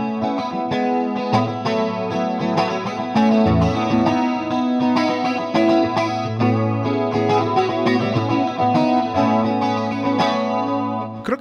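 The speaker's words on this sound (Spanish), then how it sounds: "Es como una especie de clean con chorus." Electric guitar through a cheap multi-effects pedal on a clean preset with chorus, strummed chords shimmering and swirling continuously for about eleven seconds, loud and alone with no talk.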